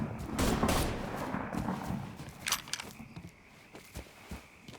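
Gunfire in Mafia 3: a heavy opening volley, then scattered separate shots and impacts that thin out and fade, with sporadic louder cracks near and farther off.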